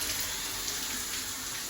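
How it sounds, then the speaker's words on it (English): Hot water runs from a bathtub tap into the tub, a steady, broad rushing hiss that holds even and unbroken throughout, moderately close and alone. "I'm gonna turn on the tub hot water."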